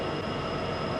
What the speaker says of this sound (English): a westbound BNSF freight train came by on the CP lines